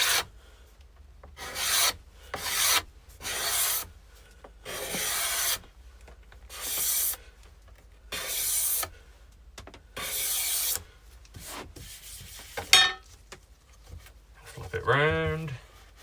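Sandpaper worked by hand over an epoxy and wood side table, about eight separate rasping strokes with short pauses between them, close and fairly loud, and a brief voice near the end.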